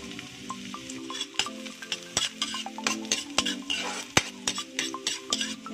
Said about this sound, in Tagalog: Meron na tayong mantika dyan at lalagyan na natin ang ating bawang.